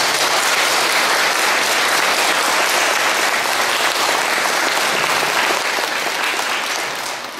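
A church congregation gives sustained loud applause during a Lenten retreat Taizé Mass, a dense steady wash of clapping that fills the space evenly and tapers slightly at the very end.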